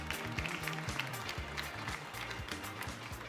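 An audience claps steadily and warmly at the Trophée Excellencia award ceremony while a winner is called on stage. The applause is dense and continuous, with a fairly even rhythm throughout.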